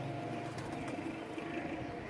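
Pigeons of different breeds, kept as a pairing stock, coo softly amid a steady, dense background murmur, with low continuous cooing and no clear speech.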